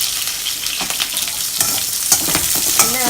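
Shallots, green chillies and curry leaves fry in a pan with a steady, close sizzle, broken by brief scrapes of stirring.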